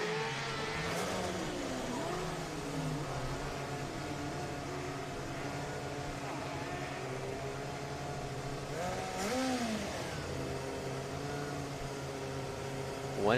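A Formula SAE race car pulls away on a track, its engine a steady drone with brief revving swells around the middle, heard at moderate distance under a faint background hum.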